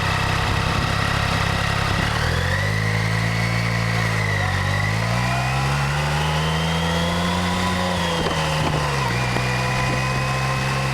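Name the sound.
motorcycle engine running on a ride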